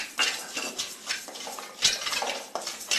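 Raw rice and moong dal dry-roasted and stirred in a pan for Chettinad kummayam, close repeated scraping and rattling of a spoon against metal with the grains shifting, no talking.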